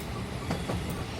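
An animated toy locomotive rolls fast downhill on rails, a continuous rumbling clatter of wheels with a couple of light metallic ticks.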